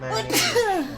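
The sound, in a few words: sneeze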